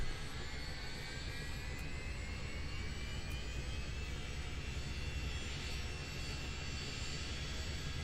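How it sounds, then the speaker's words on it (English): Chinook CH-47D helicopter engines spooling up during start-up in MSFS 2020, a loud, steady turbine roar with a rising whine and deep low rumble that runs unbroken throughout. "I'll turn the helicopter sound down in a moment once we get it fired up."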